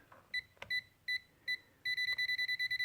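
A series of high, electronic beeps from a Tesmen TMM-569A multimeter's non-contact voltage tester near live lights: several spaced single chirps, then a fast steady run of repeated beeps, clear and close with no talking.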